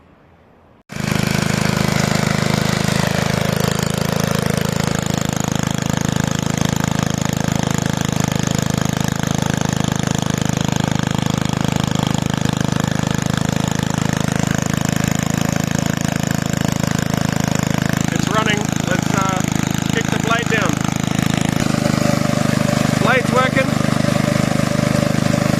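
A discarded Scott Bonnar lawn edger, run with its old spark plug and air filter, starts and keeps a loud steady small-engine drone close by, the pitch shifting slightly as it cuts.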